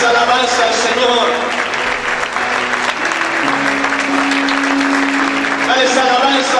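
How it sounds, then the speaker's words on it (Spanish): Sustained congregational applause in a church, close and loud, keeping up an even roar of clapping over held musical notes and scattered crowd voices. "aplaude, aplaude fuerte al Señor."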